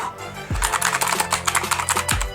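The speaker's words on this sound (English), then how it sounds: "I'm just going to open up some WordPad and start typing" Typing on a TECKNET mechanical keyboard: a quick, uneven run of close, crisp key clicks, with a couple of deeper thumps among the strokes.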